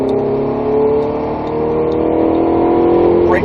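Ferrari 488 GTB engine revving hard under throttle on a track, a loud continuous roar with rising pitch, close and steady throughout with no talk.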